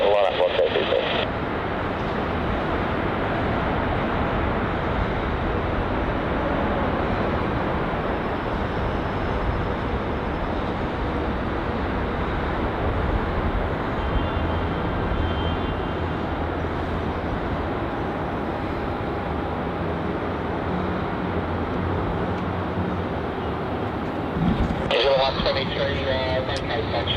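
An airliner rolls along runway 34 at Melbourne Airport with a continuous broad engine roar, and radio voices talk over it throughout.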